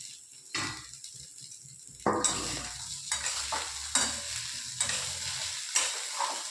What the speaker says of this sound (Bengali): ভালো করে নাড়তে থাকবো, সব মিশে যায়।